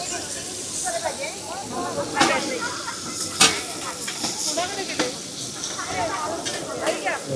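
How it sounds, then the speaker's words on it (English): Pomfret fish frying in oil at a Mahim Koliwada seafood stall gives a steady hiss and sizzle with occasional sharp spits, set in a busy market. "And this is the pomfret that she is frying."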